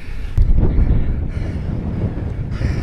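Wind roars across the microphone during a long road bike ride, a loud low buffeting rumble that gusts and surges throughout without speech.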